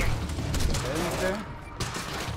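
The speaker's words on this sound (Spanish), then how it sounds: "¿Quién está disparando?" Gunfire in the Quantum Break video game, a dense burst of automatic shots over a steady low rumble, with voices talking over the action.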